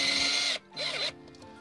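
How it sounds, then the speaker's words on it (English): A power drill drives a screw through a flange while an RV camper's power setup is being fitted: two short whirring bursts close by with a brief gap, the second rising and falling in pitch. "start putting the screws in through the flange"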